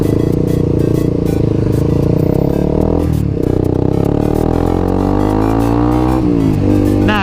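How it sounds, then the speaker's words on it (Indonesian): A very loud, rumbling aftermarket open motorcycle exhaust runs continuously close by, with throttle blips and pitch swells as it rides. "pakai knalpot brong ini"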